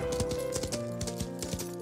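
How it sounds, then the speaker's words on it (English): Horse hooves clip-clop at a steady walking rhythm as the horse Philippe carries his rider toward town, the regular hoofbeats standing out clearly over background music. "He hopped on his horse, Philippe, and headed into town."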